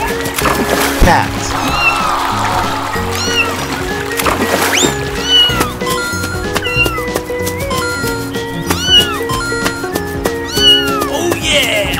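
A cat meows repeatedly in an animal-guessing escape room game, with drawn-out rising and falling cries mixed over music and talk.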